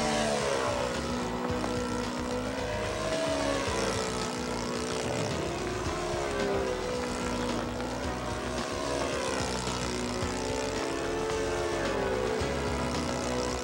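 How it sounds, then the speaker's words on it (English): An airplane flies a maneuver in windy conditions, its engine droning continuously with a pitch that rises and falls as it turns, fairly loud and steady throughout. "The airplane presents well in that maneuver."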